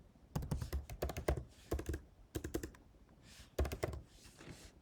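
Quick bursts of typing on a computer keyboard, close and crisp, with clusters of rapid key clicks separated by short pauses.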